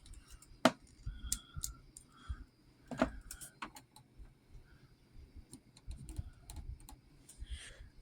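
An action figure of Tekken 8's King being posed, with scattered small, sharp plastic clicks from its joints at uneven intervals, close and fairly quiet.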